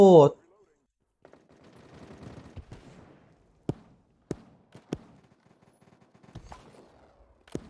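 Gunfire in the video game BattlePrime: a handful of sharp, separate shots crack out at irregular intervals over a quiet, rustling background, with no continuous bursts.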